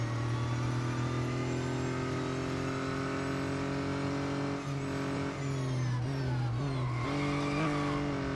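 A racing car engine in the mobile game Real Racing 3 drones loud and steady, its pitch shifting with a few gear changes near the end, while tyres hiss and squeal faintly underneath.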